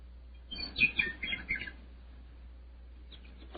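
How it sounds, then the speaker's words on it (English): Birds chirp and twitter in a brief burst of quick, high calls over a quiet background, then fade to near silence with a faint call at the end. "The sun was shining, the birds were singing"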